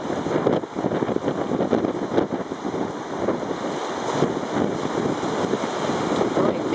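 A strong gale buffeting the microphone outdoors near the sea, a continuous loud roaring rush with gusty surges and no pauses, alone without speech.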